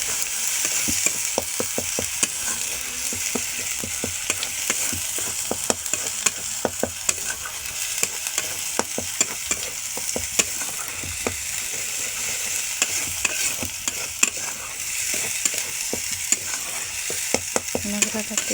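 Poppy seed and cashew paste frying in oil in a village-style kitchen, a steady hiss broken by frequent sharp scrapes and taps of the spoon against the pan, close and continuous, with no voices.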